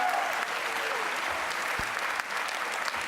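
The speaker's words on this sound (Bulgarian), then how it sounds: "Аплодисменти за Христо и Роси!" Dense, sustained applause from a studio audience at a televised dance competition fills the space after a quickstep performance. The clapping stays steady and loud throughout, with faint crowd murmur beneath it.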